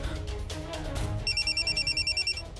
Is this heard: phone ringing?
yes